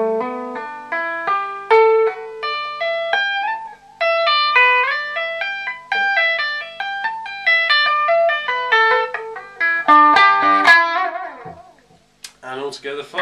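Electric guitar plays a slow string-skipping tapping lick as a clear run of bright, separate notes jumping between high and low strings, alone with no talk, gathering into a quicker flurry near the end.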